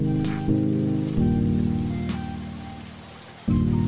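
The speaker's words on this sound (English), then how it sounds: "it's the stock raining noises in the background" Steady stock rain from the Friday Night Funkin video game hisses continuously in the background, alongside low sustained tones that shift in a few abrupt steps.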